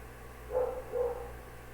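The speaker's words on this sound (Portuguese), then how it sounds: "Aqui o cachorro latindo aqui demais" A dog barks twice in quick succession, moderately near, over a low steady background hum with no talk.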